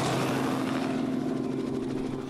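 A helicopter landing in the mountains gives a steady, close rotor and engine drone with a strong low hum and faint rhythmic chopping that grows slightly toward the end, with no talking.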